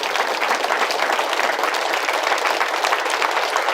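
A seated audience claps loudly and steadily for two teachers at a motivational talk on happiness, with dense, continuous applause filling the hall and no voices over it.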